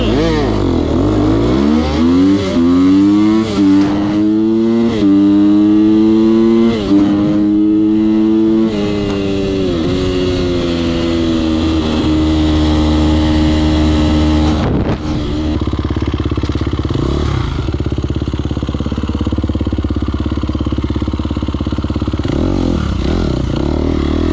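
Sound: KTM motorcycles revving and racing

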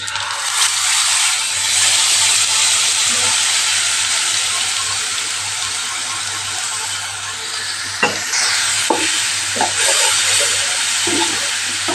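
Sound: frying cumin, asafoetida and dabeli masala paste in hot oil

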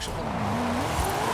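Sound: car tires squealing while drifting in Forza Horizon 5 video game

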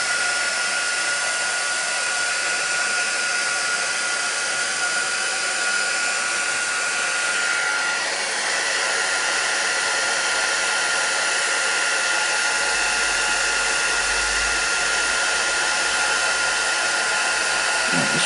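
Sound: heat tool heating crafting project

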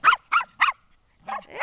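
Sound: dogs barking

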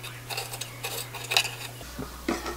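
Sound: cutting soaked dried persimmons into small pieces

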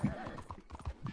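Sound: horse hooves clip-clopping in Red Dead Online video game

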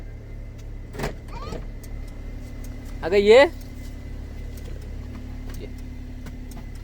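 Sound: car being started and driven out

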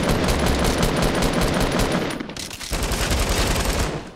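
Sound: gunfire in the video game Fortnite

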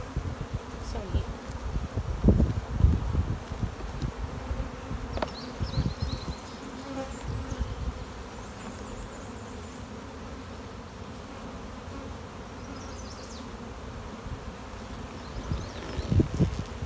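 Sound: honeybees and drones buzzing in an open hive

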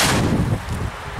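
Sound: China Böller D firecracker exploding

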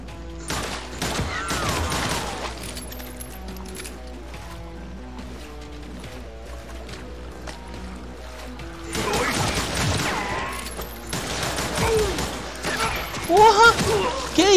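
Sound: gunfire in the video game Call of Juarez

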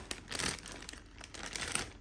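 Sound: cutting open crinkly plastic packaging

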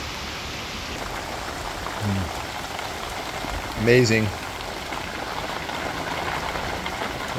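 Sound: heavy rain downpour

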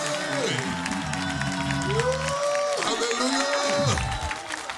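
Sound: congregation clapping hands in church

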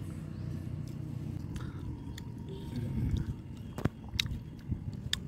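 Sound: eating cut fruit salad with banana and papaya

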